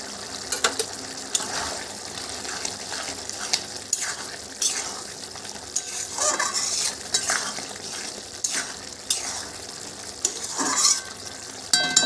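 Fried spice masala being stirred into simmering chickpea chana masala curry, a steady close sizzle broken by repeated scraping strokes of a utensil against the pan, with no talking.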